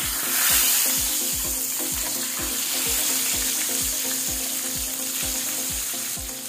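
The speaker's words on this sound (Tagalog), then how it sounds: "Napakadaling lutuin lang po at napakasarap tong ating fried chicken at kanto." Fried chicken cooking in hot oil gives a steady sizzle and crackle, close and continuous, with a regular pulsing rhythm of background music beneath it.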